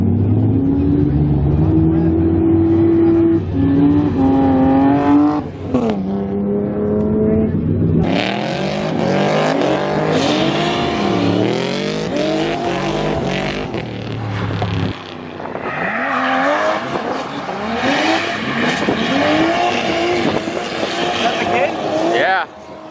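Turbocharged drift car revving hard with rising and falling engine pitch and tire squeal, loud and close, over a continuous roar, with people talking nearby.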